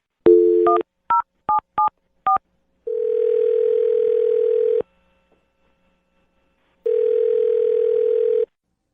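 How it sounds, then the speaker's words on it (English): A run of quick touch-tone keypresses on a phone, each a short beep, followed by two long steady ringback tones separated by a gap, clear and close with no talking over them, as a call is placed to a radio show's date-update caller. "I'm going to dial her phone number right now."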